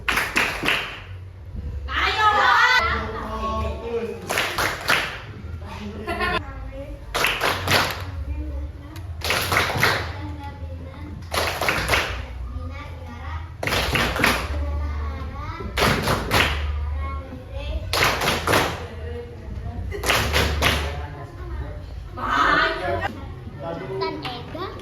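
Children in a classroom clap out a rhythmic 'tepuk fokus' pattern, repeated bursts of sharp claps in steady groups across the whole stretch, with a teacher and kids talking between them.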